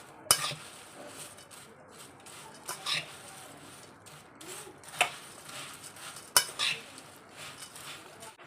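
Puffed rice bhel with squeezed lemon being mixed in a bowl, sounding as scattered clinks and scrapes of a utensil against the dish between quiet rustling stretches.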